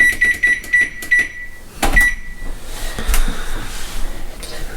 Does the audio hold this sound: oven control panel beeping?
yes